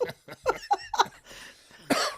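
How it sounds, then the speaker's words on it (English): A man coughs several times in a short, close burst of hacking coughs, followed by a breathy pause and one more harsh cough at the end. "coughs on cue"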